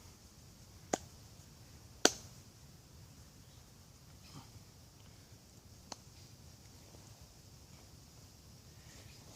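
Three sharp, isolated hand claps, two close together and one a few seconds later, ring out in a quiet room with no voices.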